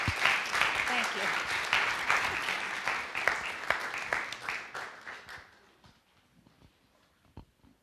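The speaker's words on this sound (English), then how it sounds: "please give them a round of applause for putting this together." An audience applauds at a Days of Remembrance commemoration event, steady clapping from a crowd for about five seconds that fades out into quiet room noise.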